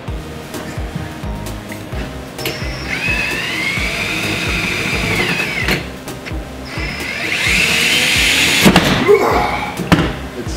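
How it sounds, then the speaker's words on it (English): A 13-year-old DeWalt drill bores a 6-inch hole through ductwork material for a dust collection system, a loud sustained grinding whine that bogs down and rises again, with bursts of harsher cutting toward the end. "Here we go, 6-inch hole, 13-year-old DeWalt."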